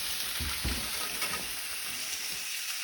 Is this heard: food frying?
yes